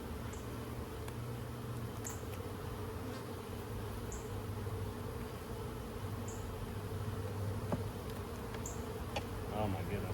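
Honeybees buzz continuously around an opened hive during an inspection, a dense close drone with a few individual bees passing near, steady throughout.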